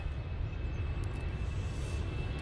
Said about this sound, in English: Easyjet now on the roll. Off to Copenhagen.